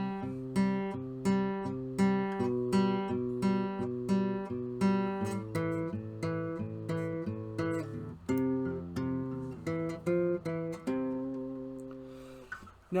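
An acoustic guitar plays a song's verse riff in power chords such as F, with steady rhythmic strums and repeated ringing chord changes, close and clear, with no voice over it.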